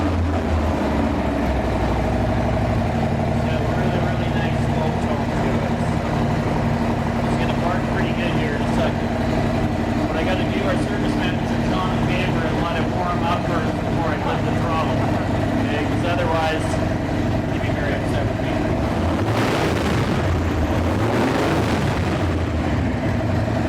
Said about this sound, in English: I love the sound of a Harley.